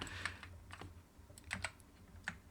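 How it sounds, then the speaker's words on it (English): Close, crisp key clicks from an old late-1990s computer keyboard come in irregular bursts of typing at a quiet level, with no talking. "my keyboard is a relic from the late 90s and it sounds like it"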